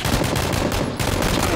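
Video game gunfire: a loud, rapid burst of automatic shots rattling in quick rhythm with one brief pause midway, close and continuous.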